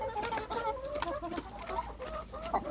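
Several chickens clucking close by, a busy overlapping chorus of short, repeated calls with no talking.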